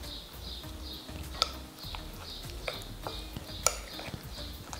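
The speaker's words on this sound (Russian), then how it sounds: "И хорошенечко все перемешиваю." A spoon stirs a thick sauce of low-fat sour cream, a tablespoon of mayonnaise and a teaspoon of whole-grain mustard in a bowl, giving steady scraping swirls with a few sharp clinks against the side, close and fairly quiet with no talking.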